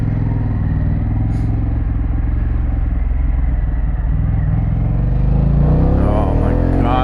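Harley-Davidson Pan America motorcycle idles and revs close by, a loud low rumbling exhaust throb that rises toward the end, with no talk over it.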